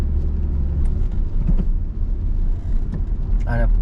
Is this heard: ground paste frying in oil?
no